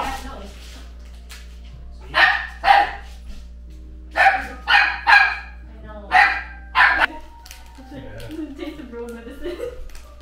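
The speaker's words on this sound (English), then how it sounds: "They have their friend's dog." A friend's dog barks in a run of sharp, loud barks, singly and in quick pairs, then whimpers softly near the end, while people talk around it.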